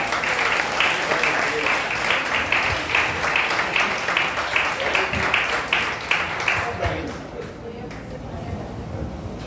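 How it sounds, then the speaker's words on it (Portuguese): A church congregation applauds steadily for several seconds, a dense wash of clapping that thins and fades toward the end, with voices mixed in. "Mais uma vez, aplauda ao Senhor."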